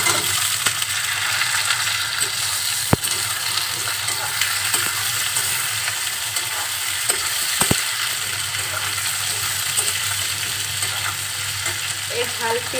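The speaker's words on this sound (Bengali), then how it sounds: "এই ঝাল পেঁয়াজের সাথে ঢেঁড়স আর আলুটা খুব সুন্দরভাবে ভেজে নিব।" Okra and potatoes fry with spicy onions in a hot pan, a constant loud crackling sizzle close up, broken by a couple of sharp metallic clicks from a spoon against the pan.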